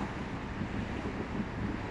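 Light outdoor wind blows as a soft, steady broadband rush with slight gusty fluctuations on a street, with no voices heard.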